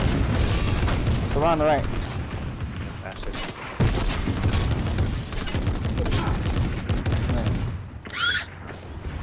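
Rapid gunfire in a Fortnite Zero Build squads match, dense bursts and booming shots running throughout, loud and close, with excited players talking over the shooting.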